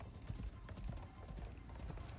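Buffalo mount walking in the Icarus open-world video game, a steady run of soft, low hoofbeat thuds repeating in an even rhythm, fairly quiet and without talk.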